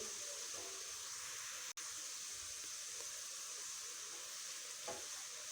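Sliced onions frying in oil in a pan until light brown for chicken korma, a steady broadband sizzle holding at an even level throughout, with one sharp click partway through and a faint stir near the end.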